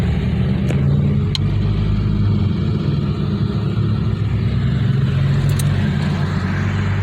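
Inside a 1951 Dodge Wayfarer with Gyro-matic transmission on the move, a steady low engine and road rumble with faint wind noise and a few small clicks, no speech.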